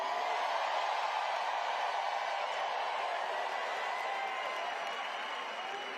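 A large crowd at a Kamala Harris campaign rally in Detroit, Michigan roars and cheers continuously in a steady, dense wash of voices that fades slightly toward the end.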